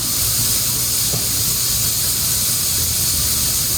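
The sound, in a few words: sauce coming to a boil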